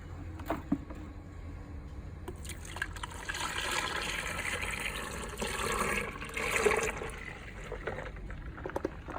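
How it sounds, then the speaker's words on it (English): Water pours into a sump being filled, a soft continuous splashing and trickling with small swells in flow, close but fairly quiet, with no talking. "We then fill the sump, again making sure that the non-return valve does not leak."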